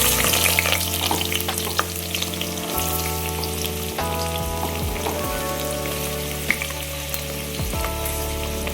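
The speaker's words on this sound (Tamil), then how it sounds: "இதெல்லாம் போட்டு நல்லா வெங்காயம் நல்லா பொன்னிறமாக வர வரைக்கும் வதக்கிக்கணும்." Chopped onions and green chillies sizzle steadily in a hot pan, a continuous crackling fry with no talking.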